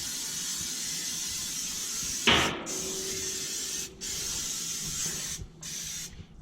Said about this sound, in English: I'm going to go ahead and spray my basket as well.